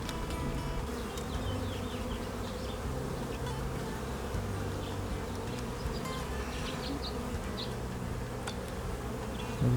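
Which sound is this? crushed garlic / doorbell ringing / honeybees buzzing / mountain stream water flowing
honeybees buzzing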